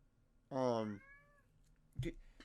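A house cat lets out one loud, drawn-out meow with a falling tail, then a short second sound follows a moment later, close to the microphone against a quiet room.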